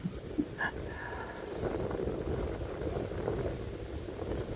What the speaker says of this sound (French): il y a un orage qui s'approche. C'est pour ça qu'il y a du vent.